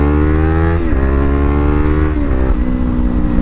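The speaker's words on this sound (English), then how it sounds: "I'm so used to bikes revving a little bit" 2025 Kawasaki Ninja 500 engine revving loudly up close, a strong harmonic drone with brief blips where the revs dip and climb again.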